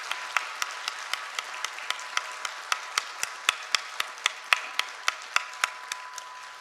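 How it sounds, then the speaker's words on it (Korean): A church congregation at a Sunday worship service with a cellist claps together in a slow, steady rhythm, about three crisp claps per second, rather soft and ringing in a large room. "우리 딱 뜨겁게 박수로 격려하고 감사의 마음을 표하겠습니다"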